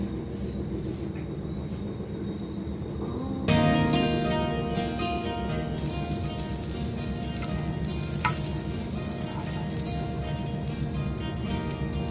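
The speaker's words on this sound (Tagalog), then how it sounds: "So magprito na po tayo. Ayan ang butter at saka ayan yung pan na pagprituhan." Sizzling from a hot pan that swells abruptly partway through as pancake batter meets the butter, then settles into a steady, close crackle.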